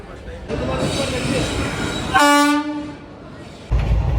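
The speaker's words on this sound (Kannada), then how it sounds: "ಸೊ ಟ್ರೈನ್ ಬಂತು" A train pulls into a railway station in Jodhpur, Rajasthan, its horn blaring in one loud, sustained blast midway over a steady rumble of wheels and station noise.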